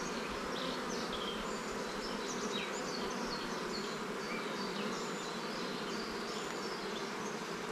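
A dense, steady buzz of honeybees fills the air during a swarm transfer, agitated and continuous, with individual bees whining close by over the loud hum.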